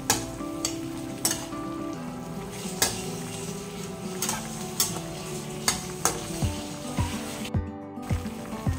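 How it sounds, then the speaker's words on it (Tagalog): Crab simmering in coconut milk is stirred in a pan, with a spoon scraping and clinking against the metal in a steady, repeated rhythm over a soft, continuous sizzle. "ngayon po ay haluhin natin siya."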